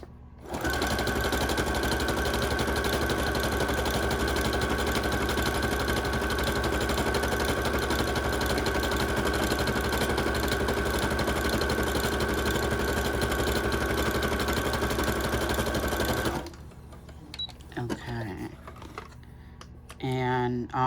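A sewing machine stitches fabric in one long continuous run of rapid, even needle chatter up close, then stops abruptly, leaving a few soft handling sounds.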